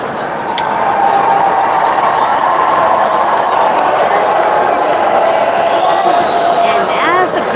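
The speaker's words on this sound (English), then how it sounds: "that's the crowd going wild" A large convention crowd at Salt Lake FanX roars and cheers loudly and steadily for several seconds, a dense wash of many voices with no pause.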